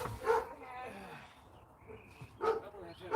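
Dogs bark in a video game, a couple of sharp barks early and another pair near the end, heard alongside game sounds and a faint voice.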